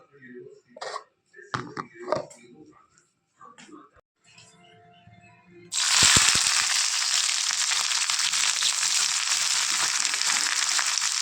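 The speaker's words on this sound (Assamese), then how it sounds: "অকণমান ভাজি ল'ম বন্ধাকবি পিঁয়াজ বিলাহী অকণমান ভাজি ল'ম ধুনীয়াকৈ ৰিফাইন তেল দি দিছোঁ" Cabbage, onion and tomato hit hot refined oil midway and then fry with a loud, steady, close sizzle, after someone talks over faint kitchen clatter.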